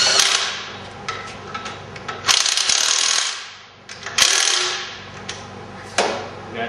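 A ratchet clicks repeatedly, tightening the lower bolts of an engine adapter plate for a 1947-1962 Kaiser Willys 226 flathead to Chevy automatic swap, in several loud close bursts of rapid clicking with brief pauses between strokes.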